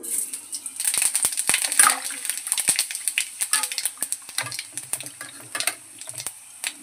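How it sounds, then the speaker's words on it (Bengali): Panch phoron five-spice sizzling in hot oil for mango chutney, a bright crackling hiss with scattered sharp pops and clinks that thin out toward the end, close and fairly loud. "এই যে চাটনি করব আমের, দিয়ে দিচ্ছি 5 ফোড়ন"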